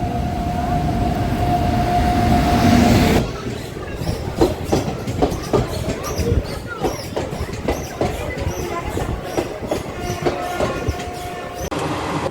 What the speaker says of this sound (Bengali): নির্ধারিত সময়ের প্রায় আধ ঘন্টা পর ট্রেনটা বর্ধমান স্টেশনে ঢুকলো